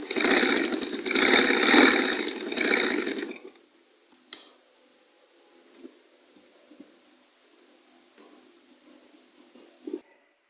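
A sewing machine stitching a baby girl's summer frock, a loud rapid whirring run of about three seconds, then near silence broken by a few faint clicks.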